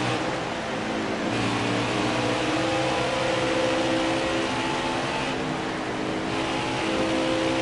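Craftsman Truck Series race trucks roar steadily as they accelerate at Michigan International Speedway, a dense continuous engine drone from a pack of trucks that holds loud and unbroken throughout.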